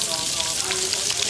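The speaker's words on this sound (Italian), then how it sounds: "La facciamo rosolare quanto basta per farla un pochettino, che questa è una salsiccia non cruda ma già leggermente essiccata e quindi va leggermente tostata" Slices of lightly dried cured sausage browning in a hot pan give a steady, dense sizzle and crackle, loud and close, with no talk.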